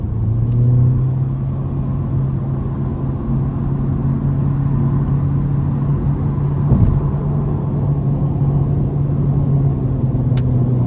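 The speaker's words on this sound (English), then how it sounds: "Let's give it some throttle here." A 2023 Honda Civic Sport Hatchback with its 2.0 engine pulls under throttle, heard from inside as a steady loud engine drone with road rumble that holds through the run, with no voices.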